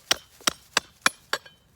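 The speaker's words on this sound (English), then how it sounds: "I have to use my hammer," Five sharp hammer taps on a metal trap anchor being driven into the ground while winter trapping, evenly spaced and close, each a crisp knock with a short ring.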